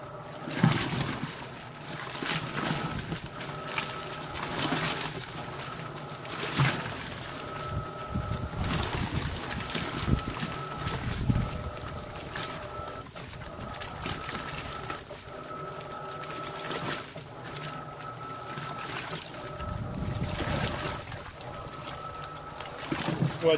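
Electrolux Dual Filtro Turbo MAX 8 kg washing machine in turbo agitation with water and a small cotton rug, giving a steady churning and sloshing with rhythmic surges under faint background noise.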